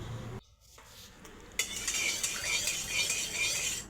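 A spoon stirs white oil in a kadai on the gas stove, with scraping and clinking against the metal pan. A brief quiet gap is followed by a steady, bright sizzle as the oil heats.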